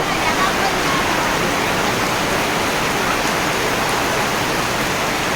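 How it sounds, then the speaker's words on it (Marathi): Heavy monsoon downpour in a Konkan village, a dense, steady broadband roar of rain that stays loud and unbroken throughout, close and continuous with no pauses. "एकदम मुसळधार पाऊस"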